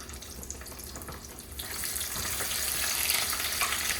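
Plain onion chunks without breading or coating drop into seasoned frying oil meant for blue crab, the sizzle swelling from a quiet hiss into a loud, crackling roar that holds steady.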